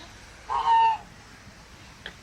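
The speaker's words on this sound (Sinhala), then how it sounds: "මෙතන ඉන්නවා එක එක විදිහේ තාරාවෝ." A single loud honk from a duck at Kuala Lumpur Bird Park, a drawn-out call of about half a second that stands alone over quiet outdoor background, followed by a brief faint chirp.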